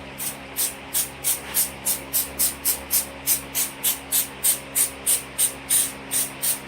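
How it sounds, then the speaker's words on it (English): Rapid, evenly spaced bursts of hissing aerosol mold release spray, about a dozen short pulses in a steady rhythm, close up and fairly loud, sprayed onto a mold before casting foam rubber. "I'm just going to spray some mold release around here"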